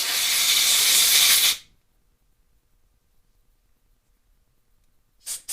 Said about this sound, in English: If you can clean it all out with some compressed air and a Q-tip.